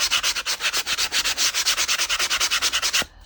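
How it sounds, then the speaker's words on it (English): Sandpaper rubs the edges of an eco resin vase in fast, steady back-and-forth strokes, loud and close, with about twenty-five regular scrapes before it stops abruptly. "I think I'm gonna sand down these edges"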